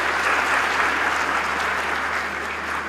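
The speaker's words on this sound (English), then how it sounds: "Just you can clap." Sustained applause from an audience at a university convocation ceremony, steady and dense clapping filling the hall for the full stretch, with no voices over it.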